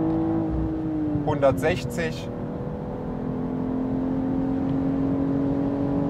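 BMW M440i Gran Coupé with 374 hp accelerating hard on the Autobahn at high speed, a steady interior engine drone and wind rush with a rising tone, while someone speaks briefly over it.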